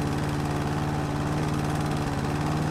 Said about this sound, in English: I prefer the old lawnmower,